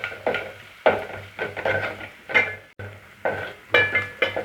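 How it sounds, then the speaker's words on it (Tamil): Masala powders of coriander, chilli and salt are sautéed in a pan for hotel-style sambar, with repeated close spoon scrapes and clinks against the pan in an uneven rhythm over a low sizzle. "மசாலா பொருள் நல்லா பச்சை வாடை போகிற வரைக்கும் வதக்கிட்டே இருப்போம்"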